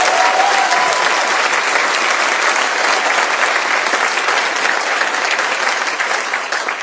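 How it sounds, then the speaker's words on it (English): Loud, sustained applause from a large audience at a university address, dense clapping filling the hall without pause and easing slightly at the end. "So let's give that a round of applause."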